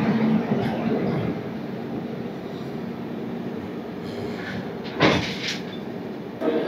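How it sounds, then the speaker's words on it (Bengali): A passenger train at Rayagada railway station gives a steady rolling rumble, broken by a few sharp metallic clanks and door-like bangs toward the end. "আমাদের ট্রেন এখন রায়গড়া রেলওয়ে স্টেশনে।"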